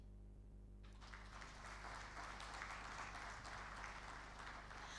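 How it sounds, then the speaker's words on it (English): Audience applause at a formal workshop held by a vice president's office, a steady wash of clapping that begins after a moment of quiet and carries evenly to the end, fairly distant and moderate in level. "please put your hands together for this patriotic Nigerian"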